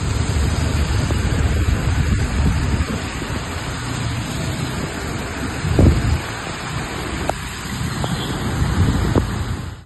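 Heavy rain pours over Hyderabad as a dense, steady roar of hiss, with a few low thumps and passing traffic swells underneath.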